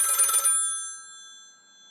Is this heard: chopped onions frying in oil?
no